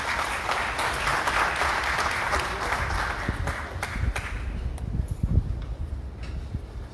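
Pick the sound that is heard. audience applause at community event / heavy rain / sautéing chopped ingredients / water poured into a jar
audience applause at community event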